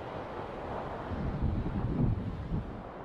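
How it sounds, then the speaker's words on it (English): Wind sweeping down a mountainside along a New Hampshire trail to a notch hut, a steady low rushing roar buffeting the microphone with swelling gusts and no voices. "the wind swooping down overhead"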